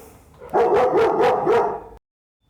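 A six-month-old puppy barks sharply indoors during a dumbbell workout session, giving about five loud, close, rapid yaps in a quick burst that stops abruptly, with no talk over it.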